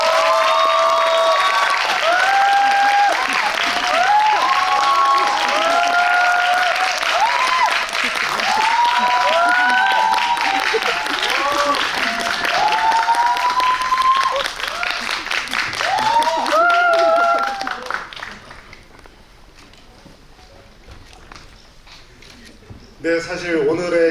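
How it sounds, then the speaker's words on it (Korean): A cinema audience at a Korean film's guest screening claps and cheers to welcome the guests, a loud dense burst of applause that carries on with a few shouts and whistles, then drops away near the end. "오늘의 게스트분들 큰 박수로 맞이하겠습니다"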